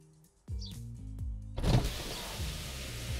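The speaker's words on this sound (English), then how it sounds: "And all the windows come down, and the sunroof shade opens." Power windows on a 2020 Volkswagen Tiguan lower together after a held driver's-side button press, a steady electric motor hum with stepped whirring changes, closing in a brief thump and a soft rushing outside noise.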